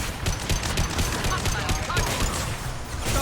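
Rapid shotgun blasts and combat fire in Mass Effect 2, a steady cluster of loud, close shots packed together for a few seconds, with a voice speaking over the battle.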